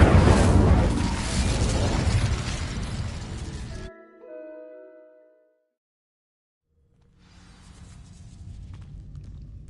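A spell of fire crackling and roaring as it burns through dry vines in Hogwarts Legacy, heard loud and dense for about four seconds before cutting off, with a brief ringing tail and then quiet ambience returning.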